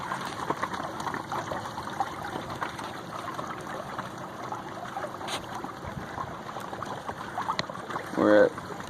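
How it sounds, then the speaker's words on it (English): A small homemade coroplast electric boat cruises across a calm lake, with soft water trickling and lapping against the hull and a faint hum, quiet throughout and ending in a brief louder splash or bump. "So here I am cruising along my little electric boat."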